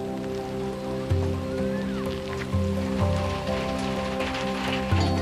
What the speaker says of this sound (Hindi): बारिश आ रही है